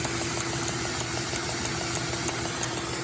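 A small Lego Detroit Diesel model engine running steadily at a decent speed, giving a continuous mechanical whir with regular faint ticking clicks, close and alone.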